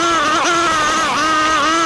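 Quad bike engine running steadily while riding in the Zakopane mountains, a loud, close drone with rising and falling pitch as the throttle shifts, continuous throughout with no talking.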